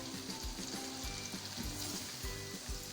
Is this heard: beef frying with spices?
yes